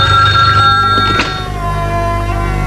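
An old-fashioned telephone bell rings loudly in a scene from an old PTV drama, a sustained metallic trill that cuts off partway through, leaving a low hum.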